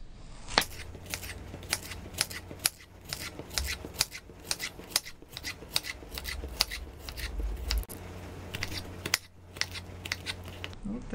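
A knife chops repeatedly through zucchini on a cutting board, slicing rounds with quick, steady, sharp cuts close up and no talking.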